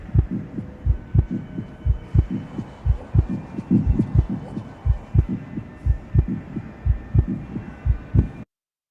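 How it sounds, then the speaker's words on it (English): A blended mix of human, fetal and whale heartbeats merged by AI interpolation, with a steady, loud, throbbing low pulse that repeats roughly twice per second for about eight seconds and then stops abruptly. "a human heartbeat, a fetal heartbeat, the cosmos, two black holes colliding, and a whale heartbeat, and an AI interpolation of all of them"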